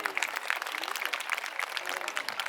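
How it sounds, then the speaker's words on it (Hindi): Audience applause at a school graduation and annual felicitation ceremony, a steady wash of many hands clapping from a crowd, moderately loud and continuous throughout. "तालियां इससे ज़्यादा वजनदार होनी चाहिए।"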